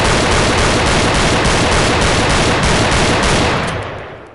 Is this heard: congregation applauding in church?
no